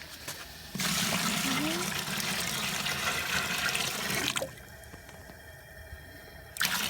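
Maple sap pours into a boiling evaporator pan in a steady, loud rush of liquid for several seconds, then stops, leaving a quieter bubbling simmer behind.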